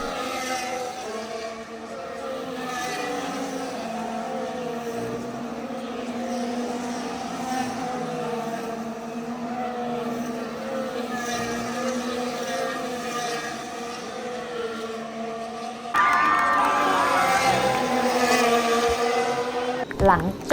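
Formula 1 cars at the Singapore Grand Prix, a steady high-pitched engine whine from the cars racing past, with a louder, closer surge near the end and crowd or voices faintly underneath.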